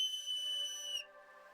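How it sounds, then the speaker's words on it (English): A single sharp, sustained whistle sounds clear and fairly close, holding a steady pitch before cutting off abruptly as a lower tone fades out. "a sharp whistle caught the bear's attention"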